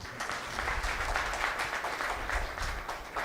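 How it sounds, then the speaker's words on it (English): Sustained applause from an audience gathered for a Teachers' Day oration, a continuous even patter of many hands at moderate loudness, with no voices over it. "you all deserve a good round of applause"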